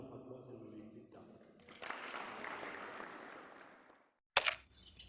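Applause closes a talk at an entrepreneurship career program, a broad wash of clapping that swells for a few seconds and then fades to near silence, followed by a sharp burst of noise.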